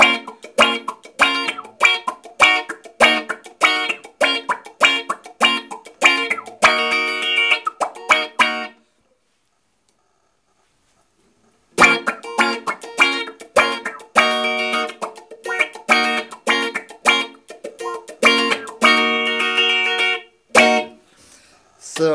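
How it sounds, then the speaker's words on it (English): Guitar through a Mu-Tron 3X envelope filter pedal in mix mode, blending dry signal with low-pass filtering, plays choppy rhythmic picked phrases, pausing silently for a few seconds before resuming. "you also got a mix mode, which is like the dry signal with a certain setting of the low pass filter"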